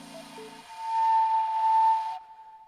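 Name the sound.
slide flute played with reverb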